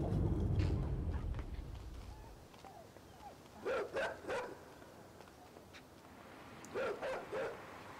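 A dog barks in two short clusters of quick yaps, a few seconds apart, faint and somewhat distant over low background rumble.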